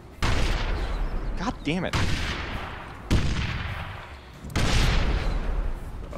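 A frag grenade goes off in a war video game, one of several loud, sharp booms and bursts of gunfire across the clip, with a brief shouted voice between them.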